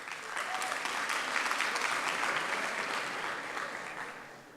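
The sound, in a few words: audience applause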